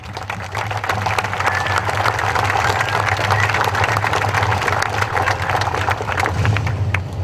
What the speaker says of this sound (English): you should give yourself a big round of applause